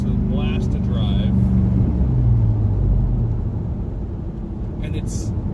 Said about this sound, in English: Let's get the black convertible Camaro out.